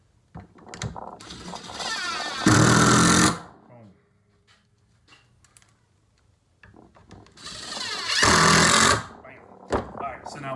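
Power driver sinking screws to mount garage organization shelving, with two loud, sustained whirring bursts and a few shorter ones, close by, separated by quiet gaps with faint handling noise.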